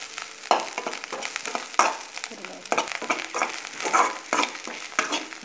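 Drumstick flowers are stirred and sautéed in hot oil for a poriyal, a steady close sizzle broken by scraping spoon strokes against the pan, with no voices.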